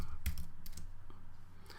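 Quick keystrokes on a computer keyboard while entering a command in a Jupyter notebook, a few soft clicks near the start and end over a low steady hum.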